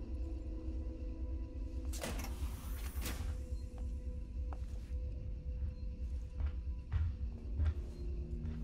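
A door in the video game Alien: Isolation slides or swings open with a brief mechanical rush and clunk, followed by a quiet room tone with faint clicks and a low hum.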